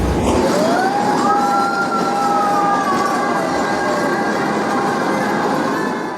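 A narrow gauge railway train from 1903 in the Indian Himalayas runs steadily and loudly throughout, with a continuous rumble and a drawn-out rising whistle-like tone on top, and no talking.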